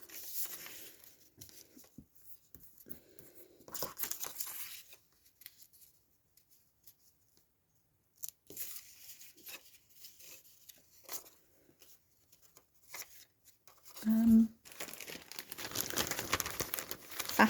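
Paper being handled, rustled and crumpled while working on a botanical-themed journal, with intermittent crinkling bursts separated by quiet pauses and a louder, longer stretch of rustling near the end.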